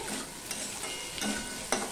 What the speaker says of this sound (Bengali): পেঁয়াজটা দেখো একটু লাল লাল হয়ে ভাজা হয়ে গেছে